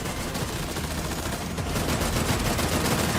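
Video game gunfire aimed at a helicopter rotor, a dense continuous burst of rapid shots that fills the whole clip, loud and unbroken, growing slightly heavier partway through.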